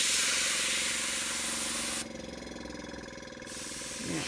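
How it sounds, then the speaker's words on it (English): An airbrush spraying alcohol ink gives a steady close hiss that changes to a lower pulsing spray partway through, then returns to the full hiss, with no talking. "I'm going to do it with the airbrush as well"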